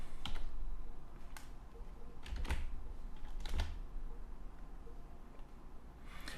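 Someone types PHP code on a computer keyboard: quiet, scattered keystrokes with a few sharper clicks over a low steady room hum, with no voices.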